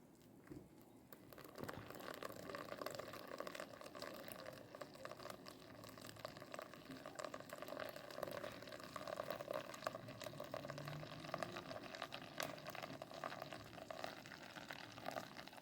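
Hot water, 270 ml, is poured slowly for a homemade floor cleaner, a soft, steady trickling flow that starts after a brief pause and continues quietly with no talk.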